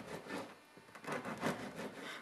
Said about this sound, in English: let's cut up some bread